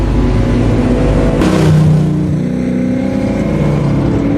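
A car trailing a man named Jack in a film, its engine a steady, loud, low rumble throughout, with a brief swell of rushing noise near the middle as it moves along.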